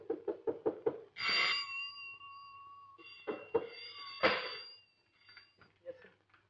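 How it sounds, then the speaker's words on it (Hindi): Several quick knocks on a door in a room, a burst of rapid raps followed by more scattered knocking, interleaved with a voice calling out loudly in between. "क्यों दरवाजा खटखटाया जा रहा है?"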